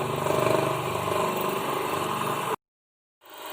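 An electric motor runs steadily under an overload test, a loud, close, even hum that cuts off abruptly to silence before faint sound returns.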